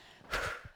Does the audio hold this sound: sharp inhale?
yes